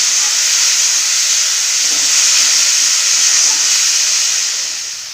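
Spice paste cooking down with a little water in a pan gives a steady, loud hiss and sizzle with no gaps, heard alone with no voices.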